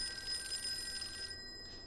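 A telephone bell rings steadily in the Call of Cthulhu video game, set in the Boston area. The faint, even ring continues alone and cuts off just before the end.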